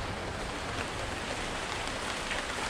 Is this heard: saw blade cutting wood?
no